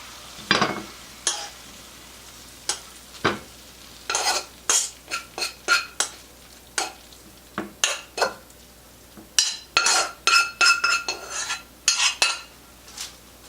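Cooked white cabbage is spooned from a frying pan into another bowl: a close string of sharp spoon clinks and scrapes against metal and crockery, irregular and bunched, with no talking.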